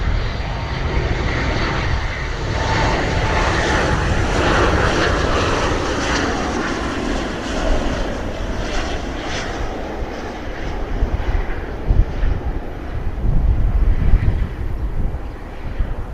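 A Ryanair Boeing 737 airliner comes in to land at Bristol Airport, its engines a loud, broad roar with wind buffeting that swells and shifts as it passes nearby.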